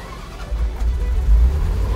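A 1993 Ferrari 348 GTS engine turns over on the key and catches, giving a deep, loud low rumble that swells and holds close by for about two seconds.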